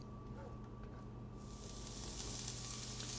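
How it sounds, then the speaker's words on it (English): Ground beef hitting a pan of softened onions and garlic, a steady faint sizzle that grows brighter and louder as the meat goes in, with no talk. "Now that the onions have softened a little bit, we're going to add our beef."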